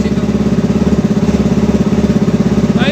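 A Benelli TNT 25 motorcycle engine idling close by with a rapid, steady putter, running evenly after starting, with a brief squeak near the end.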